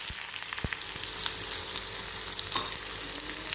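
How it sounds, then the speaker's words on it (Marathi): Onion frying in a pan for grated raw mango chutney, a steady close sizzle broken by a few sharp clicks and scrapes from stirring. "आता ह्याच्यामध्ये कांदा भाजून घेते"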